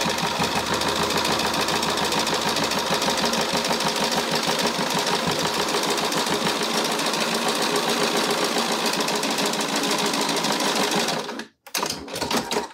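A sewing machine stitching the lining pocket of an Ebben zip pouch runs loud and continuous with a fast, even mechanical rattle, cutting off briefly near the end before starting again in short bursts.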